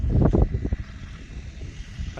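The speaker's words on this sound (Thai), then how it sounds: "โอ้ลมแรงครับ" Strong wind gusts buffet a microphone outdoors, giving low, rumbling bursts that are loudest at the start and then settle into a steady blustery roar with no one talking.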